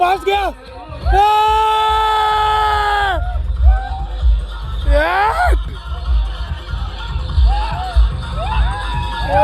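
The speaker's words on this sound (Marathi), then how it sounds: "जल्लोष" A crowd of village boys cheers and whoops at a local cricket semi-final, loud close shouts and rising yells overlapping with excited talk and babble throughout.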